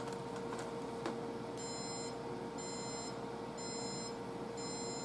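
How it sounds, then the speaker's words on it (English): Bread machine timer beeping when the loaf is done, four bursts of repeated high electronic beeps over a steady kitchen hum and background noise. "That's my bread machine telling me, I'm ready, come and get me."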